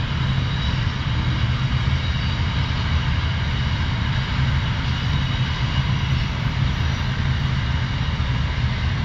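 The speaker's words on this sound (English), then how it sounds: "God, how long is this train?" A long container freight train passes nearby, a steady, loud, continuous roar with no break throughout.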